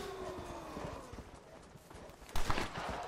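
Rhythmic horse hoofbeats in the video game Red Dead Redemption: Undead Nightmare clop steadily at close range, with a brief louder thud near the end, over faint background noise.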